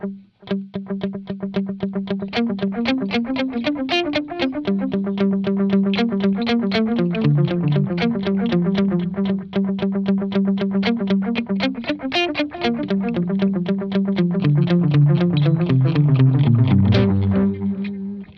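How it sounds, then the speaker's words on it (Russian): An electric guitar plays a rhythmic riff of plucked notes through a JOYO R-10 analog bucket-brigade delay pedal, each trailed by soft repeating echoes that blur into a continuous, shimmering tail. "аналоговый дилей не настолько четко дает этот первый повтор, не настолько громкий он получается"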